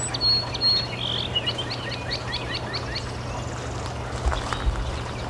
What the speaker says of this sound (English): Notice how the birds are starting to sing again.